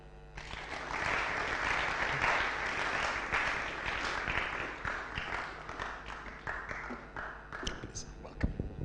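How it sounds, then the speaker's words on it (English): Audience applause at a tech talk and web development graduation event, steady broadband clapping across the hall with a few louder individual claps near the end, no clear speech. "Come on, clap."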